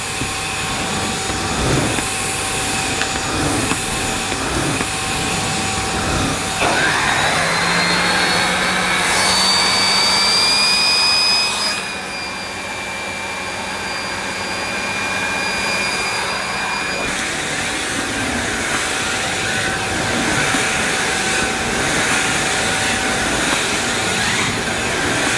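A Miele Boost CX1 Cat & Dog vacuum cleaner roars steadily on max power over carpet, a loud close whine that rises and falls in pitch as it is pushed, with no talking.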